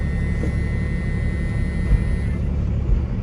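A first-generation 12-valve Cummins diesel in an old farm truck idles steadily after starting, a constant low rumble with a faint high whine running underneath, unbroken for the whole stretch.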